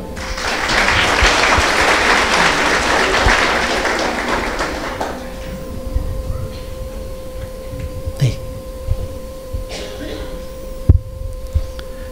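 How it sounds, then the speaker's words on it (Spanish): Wedding guests at a church ceremony in Enmanuel church applauding the newly married couple: dense, loud clapping for about five seconds that quickly dies away into a quiet hum, with a few scattered thuds afterward. "Su fuerte aplauso."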